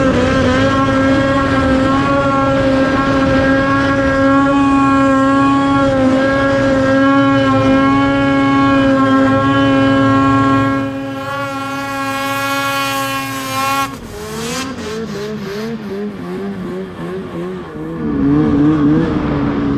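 A Ski-Doo Summit E-Tec snowmobile engine drones loud and close at high revs while climbing a snowy hill, holding a steady pitch before dropping and wavering as the throttle eases off and then rising again.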